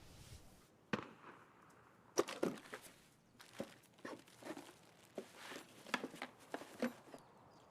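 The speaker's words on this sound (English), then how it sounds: "Sounded like someone shooting scavs." Distant gunfire in Escape from Tarkov, scavs being shot somewhere across the map: scattered sharp cracks and pops, faint and far off, irregular single shots and short bursts over a quiet background.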